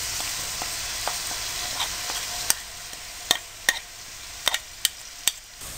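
Chopped onion dropped into half a cup of hot cooking oil for a vegetable korma gives a steady close sizzle, broken by a string of sharp pops and crackles that grow more frequent toward the end.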